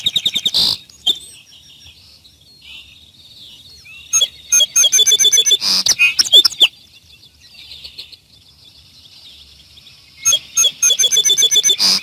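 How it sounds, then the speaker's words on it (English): Vesper sparrow singing in the open, bright clear phrases and rapid trilled bursts repeated in several bouts with short quiet gaps between, close and loud. "Sparrow."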